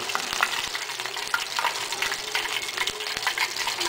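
Corndogs deep frying in hot oil make a loud, continuous sizzle with dense crackling and popping, close up and steady throughout, without any voices.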